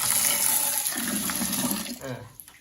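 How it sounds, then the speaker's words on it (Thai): Water gushes steadily from a household faucet, close and loud, then tapers and thins toward the end. "ซึ่งมี น้ำไหลออกมาเยอะนะฮะ"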